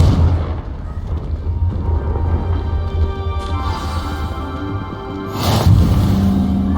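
A Confringo blasting spell explosion in Hogwarts Legacy gives a loud burst near the end over a busy, rumbling game ambience with a steady musical drone.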